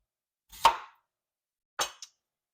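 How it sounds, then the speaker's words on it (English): A knife slices food into very thin pieces on a board for a Thanksgiving side dish, giving two short, close cutting strokes separated by a pause, the second followed by a brief light tap. "I'm going to start by cutting these up into thin slices."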